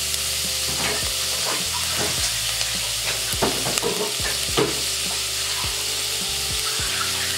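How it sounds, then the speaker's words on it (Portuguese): Fish pirão ingredients sizzle and fry in a pan, crackling steadily, with occasional scrapes and clinks of a utensil stirring. "Deixa fritando."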